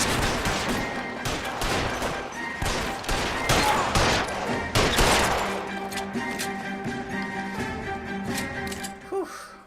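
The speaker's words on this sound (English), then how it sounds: "Open fire!" Gunfire in the crime game L.A. Noire: a rapid volley of loud shots and bursts in the first half, then sparser cracks fading into a ringing tail.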